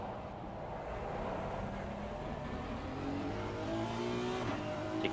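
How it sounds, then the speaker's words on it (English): A race car engine in a racing sim at a rainy Donington endurance race revs with shifting pitch, rising harmonic tones climbing through gears, steady and moderately loud with tire and track noise underneath. "The car didn't like that downshift."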